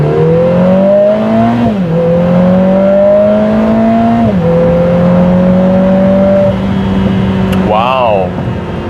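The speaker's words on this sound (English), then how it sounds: "So let's do a quick acceleration in sport mode." A Lotus Emira i4 Turbo fitted with a Milltek exhaust accelerates hard in sport mode, its loud close engine note climbing through the gears with brief dips at each shift and a sharp whistle near the end.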